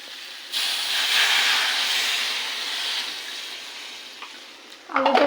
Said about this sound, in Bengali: কষে এসছে তরকারিটা, কষে এবার দিয়ে দেবো পরিমাণ মতো জল।